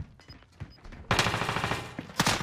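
Bursts of rapid automatic gunfire crackle loudly in a Call of Duty match, a first faint spatter of shots giving way to a sustained close volley with a final sharp burst, no talk over it.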